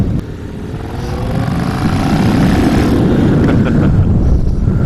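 Motorcycle exhaust pipes on a ride through Maryland countryside, a loud continuous engine drone that swells slightly in pitch amid strong wind rush.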